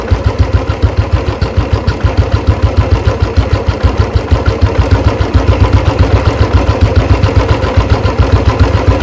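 A Royal Enfield Bullet 350 single-cylinder engine idles loud and close during carburettor tuning, its rapid, evenly spaced thumps holding a steady beat throughout, with no speech over it.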